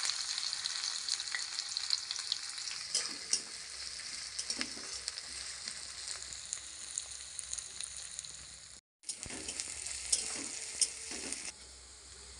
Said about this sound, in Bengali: পেঁয়াজটা ভাজা ভাজা হয়েছে।